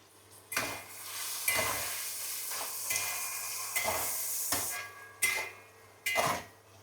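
Chopped tomatoes and slit green chilies sizzle in a pan with salt while a utensil stirs and scrapes at intervals, a steady close frying hiss broken by about six distinct stirring knocks.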